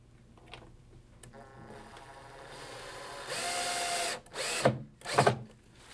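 A power drill drives a screw through a small bracket into the top of a cabinet: a whirring motor that rises in pitch, then two short, sharp bursts as the screw seats.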